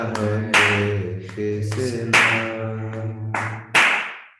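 Sharp, loud claps land at intervals over a sung Hare Krishna chant with a low droning tone, a few distinct hand strikes keeping time with the devotional singing.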